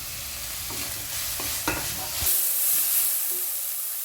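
Chopped capsicum sizzles in a hot pan while a spoon stirs it, with steady frying hiss and a few close clacks and scrapes against the pan, no voices.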